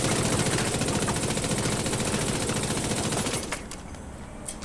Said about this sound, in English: I'm going to shoot from exactly the same position at this point on the wall